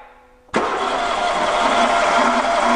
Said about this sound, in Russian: Покрутим стартер еще раз и посмотрим,